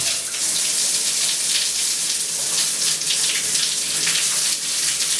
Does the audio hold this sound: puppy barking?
no